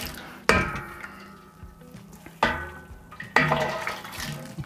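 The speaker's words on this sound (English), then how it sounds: "Give this a quick side rinse with hot water." Hot water rinsing the inside of a wine-making vat for a Sauvignon Blanc kit: three sudden splashing gushes, each fading into a running, sloshing wash, close and with no voices.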